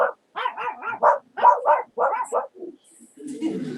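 A dog barks repeatedly in quick bursts nearby, sharp yappy barks with short pauses, followed by a softer rustle at the end.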